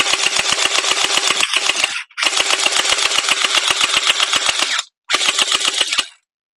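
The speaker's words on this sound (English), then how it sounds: "Let's see where we're at on FPS." A CV Scorpion EVO gel ball blaster with folding stock fires in full-auto bursts, loud and close, with a rapid even rhythm of sharp shots in three strings separated by short silences.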